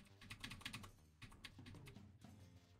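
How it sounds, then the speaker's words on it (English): Arrow keys and the spacebar on a computer keyboard are tapped in quick irregular clusters while playing a puzzle game on Linux, soft close clicks with a low background hum and no talk. "I'm just using arrow keys and spacebar"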